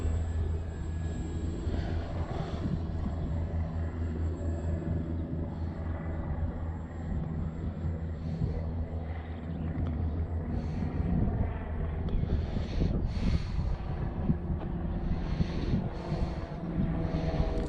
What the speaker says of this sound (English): another low flyby here. Not that low, but low.